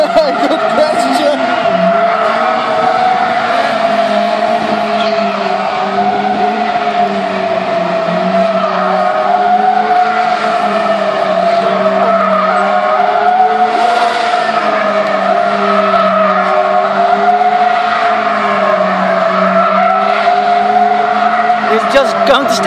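A car skids with long, continuous tire squeal rising and falling in pitch while the engine revs, loud and sustained throughout, with spectators talking over it.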